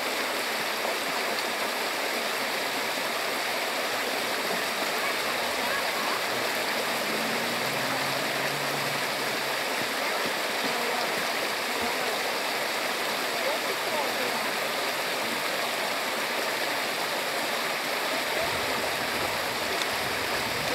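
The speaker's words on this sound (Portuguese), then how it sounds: "Olha o som da água, gente." Small woodland stream running steadily, a continuous close rush of water with gurgling texture that holds evenly from start to finish, with no voices.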